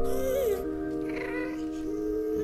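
A cat meows in the Minecraft game, with a rising and falling tone over steady game music and background sound.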